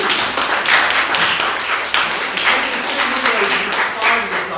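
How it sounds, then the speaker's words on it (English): Audience at a Monday night gathering gives a round of applause, close and fairly loud with dense, steady clapping lasting several seconds. "A round of applause."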